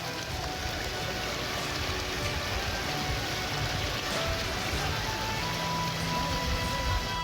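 Heavy rain pouring down during a flood rescue by police Brimob personnel, a dense, continuous roaring hiss that stays loud and steady throughout, with no voices heard.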